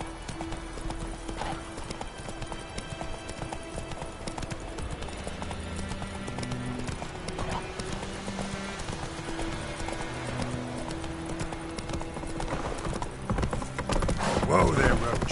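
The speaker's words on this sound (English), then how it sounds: "Whoa there, Roach." Horse hooves clip-clop in a steady rhythmic gait in The Witcher 3 video game, played over a game score and ambient sound with occasional dialogue.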